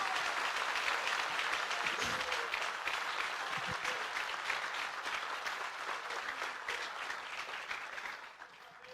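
A church congregation claps in praise, a dense, steady wash of applause from many hands that holds its strength and then begins to fade near the end.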